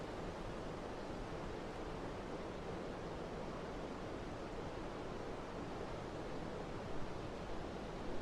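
Water pours down steadily inside Jiuxiang cave, a dense, continuous roar of falling water that fills the cavern and stays constant throughout.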